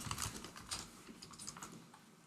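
Computer keyboard typing during a browser-programming session: a quick, close run of soft clicky keystrokes in irregular bursts, fairly quiet and heard alone without talk.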